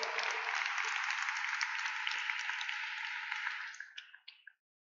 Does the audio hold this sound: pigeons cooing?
no